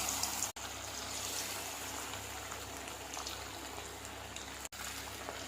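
Chicken pakoda fries in oil in a kadai, giving a steady, quiet sizzling hiss that holds evenly throughout with no talking.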